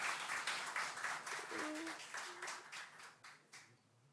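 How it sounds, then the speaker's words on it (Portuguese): Applause for a guest at a special plenary session lecture: dense, steady crowd clapping that starts full and gradually thins and fades over about four seconds, with faint voices underneath. "Uma salva de palmas para o Pedro Mori, da Executiva Estadual"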